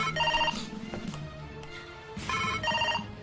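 A mobile phone ringtone rings in two loud bursts separated by a brief pause, with a low hum beneath.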